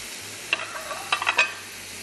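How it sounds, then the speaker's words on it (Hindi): Prawns in chili masala fry in a pan, with a few short bursts of stirring and scraping over a faint, steady sizzle. No voices. "इतनी देर तक भूनेंगे ये तमाम पानी ड्राई हो जाए, मिर्च और मसाला बहुत अच्छे से भुन जाए।"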